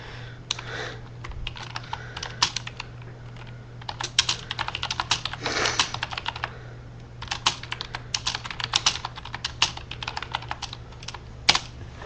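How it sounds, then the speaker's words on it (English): Quick close-up typing on a computer keyboard, bursts of rapid key clicks with short pauses over a steady low hum, no talking. "I have to type a message, and I can't talk and type messages at the same time"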